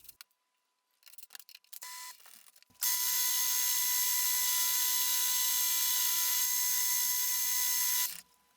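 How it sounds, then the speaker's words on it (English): A metal lathe faces off the end of a part held in a 3-jaw chuck. After a few quiet clunks and handling noises, a steady loud hum of cutting and running machinery holds for several seconds before it stops. "I can now get it chucked in the 3-jaw and then face off the end."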